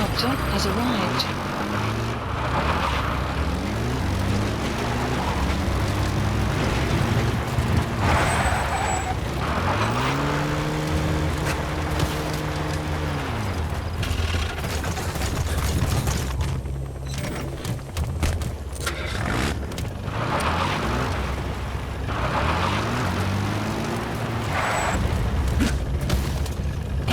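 A support helicopter touching down at a landing zone in Metal Gear Solid 5, its rotor and engine roar rising and falling through repeated pitch sweeps, heavy and continuous beneath intermittent radio voices.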